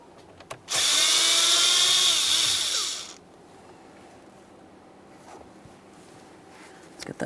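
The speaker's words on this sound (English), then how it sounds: "we're going to be using a T10 Torx head to remove each of our 2 mounting screws holding this in place" A power driver spins out a T10 Torx mounting screw from the steering column of a 2015-2020 Ford F-150 during a combination switch replacement: one loud, close whirring burst of about two and a half seconds, then quiet.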